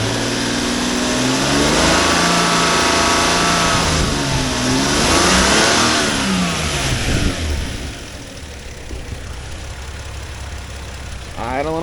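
A 1997 Lexus LX450 with the 1FZ-FE six-cylinder running, hood open, giving a close, steady engine hum with a slight rise in the middle before settling into a quieter idle.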